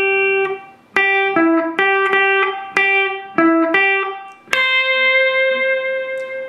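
Electric guitar plays the pickup lick leading into a solo: a string of clean, ringing single picked notes with some bends, then a longer sustained note that fades, close and clear with no talking.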